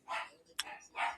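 Dogs barking close by indoors: three sharp, fairly loud barks in quick succession within about a second, with no talk over them.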